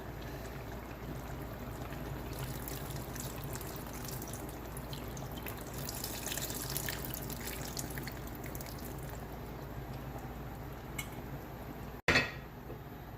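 Tamarind water is poured into a simmering egg and drumstick curry, giving a steady liquid wash for about twelve seconds that ends in a sharp clink of a vessel.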